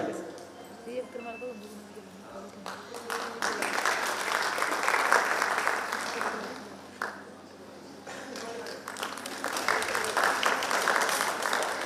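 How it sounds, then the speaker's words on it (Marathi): Audience applause for women being honoured at a Navdurga award ceremony, a broad sustained clapping that swells through the middle, dips briefly and picks up again, with a voice over a loudspeaker at the start. "जोरदार टाळ्या करतो या भगिनींसाठी"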